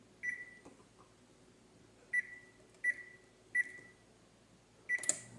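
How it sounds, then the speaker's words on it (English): An oven control panel beeps as it is set: five short, faint electronic tones spaced about a second apart in a quiet kitchen, ending with a slightly louder confirming beep and a click. "So I'm going to set the oven and we'll get started."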